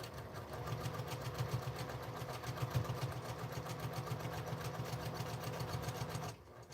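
Sewing machine stitching scrap fabric for a quilt, a close, rhythmic rapid chatter of the needle running steadily for about six seconds, then stopping.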